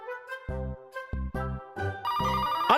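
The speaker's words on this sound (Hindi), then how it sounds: "अरे पांडु, फोन तो उठाओ जरा।" A telephone rings in a cartoon comedy, repeated electronic ringtone bursts with short gaps, fairly clear and alone with no talk.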